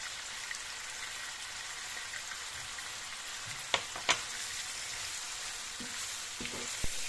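Chicken frying in a pan over a high flame gives a steady, soft sizzle, with a few sharp clicks and taps near the end.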